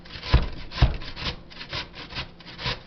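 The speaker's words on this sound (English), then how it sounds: "I'm going to grate this down here" A potato is rubbed down a cheap grater in short scraping strokes, about six to eight rasping passes in under three seconds, close and fairly quiet.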